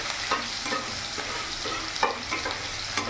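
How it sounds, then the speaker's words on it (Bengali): Chopped onion sizzling steadily in a hot pan, with soft scrapes and clicks of a spatula stirring at irregular intervals, close and fairly quiet. "যতক্ষণ না পেঁয়াজের কাঁচা ভাবটা যাচ্ছে ততক্ষণ পেঁয়াজটা আমি ভালো করে ভেজে নেব"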